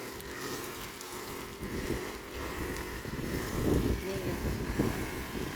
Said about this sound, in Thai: ลมแรงค่ะ ตอนนี้ฝนเริ่มนะคะ